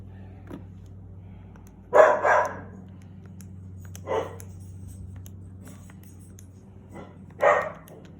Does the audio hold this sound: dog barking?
yes